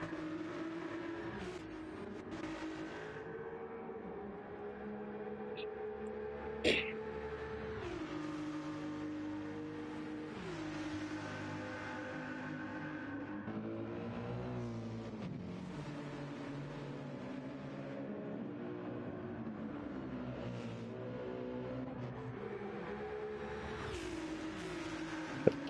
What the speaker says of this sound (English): it's Lightning McQueen revving it out here in second gear